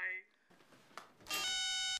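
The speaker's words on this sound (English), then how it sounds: "Please leave your name after the beep." An answering machine beeps: one sustained electronic tone, bright and steady, sounding right after a short burst of speech and some faint clicks.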